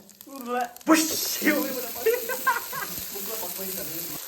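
Tomatoes hit a hot pan for chicken curry and set off a steady close-up sizzle, with a voice talking over the frying throughout.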